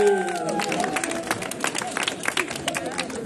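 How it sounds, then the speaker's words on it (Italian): A crowd claps and cheers for a team at an outdoor summer treasure hunt in Mussomeli, Sicily, with steady hand claps and overlapping voices and an announcer talking throughout. "Dobbiamo fare un grande applauso"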